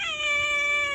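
A female cat lets out one long, loud, close meow with a clear wavering tone.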